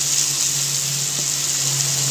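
Green chillies sizzle steadily in a pan with vegetables for chicken noodles, a soft continuous frying hiss with no talk.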